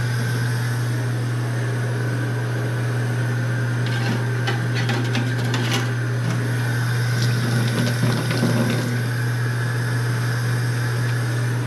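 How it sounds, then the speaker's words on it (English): Running water from a tap washes restored International Scout 800B gauges, a steady hiss over a constant low hum, with scattered splashes and clatter in the middle. "Just wash them off with a little water."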